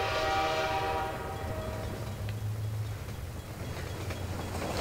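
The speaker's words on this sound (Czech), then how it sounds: "Když tady takhle zase pojede ten vlak, já už vidím, jak jede a bzučí" A train in Half-Life 2 rolls past with a steady low rumble and a sustained horn-like drone, fading into quieter mechanical noise.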